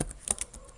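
A few quick keystrokes on a computer keyboard while JavaScript code is being typed, soft close clicks with a couple of sharper taps, no voice.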